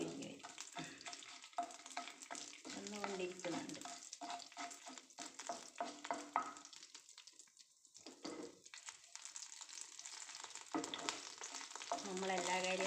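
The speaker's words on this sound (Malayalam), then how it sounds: "അരിയെല്ലാം നല്ല പൊരിഞ്ഞ് വരുന്നുണ്ട്" Rice grains fry in a hot pan for a banana flower stir-fry, with a crackling sizzle and repeated stirring and scraping sounds throughout, loud and close.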